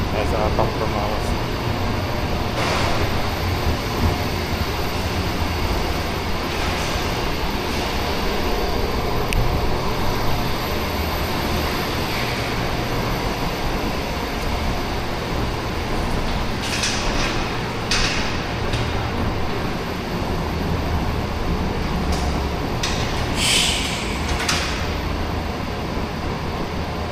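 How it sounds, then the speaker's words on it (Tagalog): A steady, droning hum of a noisy Zamil air conditioner's indoor fan motor runs continuously, fairly loud, with occasional clicks and rattles and someone talking over it. "Ingay yung indoor niya mga boss, yung motor niya, ingay."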